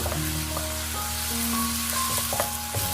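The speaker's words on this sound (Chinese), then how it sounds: "再把木耳和胡萝卜片也加进来，继续开大火快速的翻炒一下" White jade mushrooms, wood ear and carrot slices stir-fried on high heat in a wok, a loud continuous sizzle with brief scraping strokes of the spatula, close and alone.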